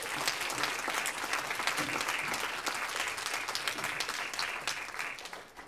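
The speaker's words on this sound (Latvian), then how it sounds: "Aplausi viņiem un arī jums" Warm, continuous audience applause at a seniors' dance ensemble celebration, a full crowd clapping steadily at moderate distance with no talk over it.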